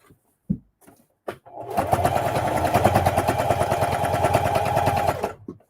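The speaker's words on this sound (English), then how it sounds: "I want to come to my top here and then do my top stitch at the very top" Sewing machine top stitching along the top edge of a fabric lunch tote bag, a steady rapid mechanical whir running for several seconds after a few soft clicks and handling sounds.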